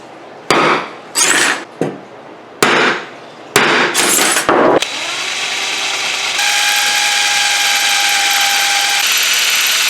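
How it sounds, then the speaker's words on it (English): A metal punch struck with a hammer to mark hole spots on a DIY GoPro chainsaw mount: several sharp bursts of ringing metal in quick clusters, then a lingering mechanical whine and hum. "we're gonna come here with a punch,"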